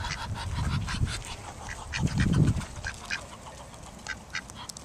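Ducks being fed by hand at a pond quack and honk repeatedly in scattered bursts, close by and fairly loud, with a couple of stronger low calls in the middle.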